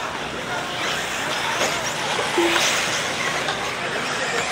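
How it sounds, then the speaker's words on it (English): Electric RC buggies race around a track at a Pro E-Buggy event. A steady whirring drone of motors runs under a loud race announcer calling the action and a background hum of crowd noise. "Now Lutz coming down the front straight"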